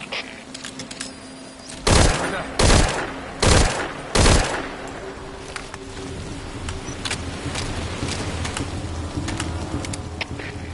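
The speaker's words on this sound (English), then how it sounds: "We're hearing gunfire." Four loud, sharp bursts of video game gunfire ring out about a second apart over a steady low hum, followed by continued background noise.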